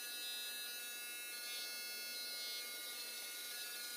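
A Redcat Racing 1/24 Sumo micro RC crawler's coreless motor gives a steady, thin, high electric whine as it slowly lifts the truck. The tone holds even throughout, fairly faint, with no voices.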